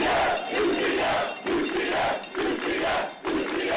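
A crowd of energetic UCF fans roars and chants on game day, a dense, loud wall of cheering that swells and dips in repeated surges close by.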